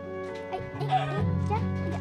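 Several quick clucks from a chicken in a video game, close and fairly loud over a steady tonal background, with a short cackling burst in the middle.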